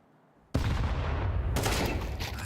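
A loud gunshot from a professional Counter-Strike esports match bursts in suddenly after a near-silent start, with a second sharp report a second later and ringing tail, no talking.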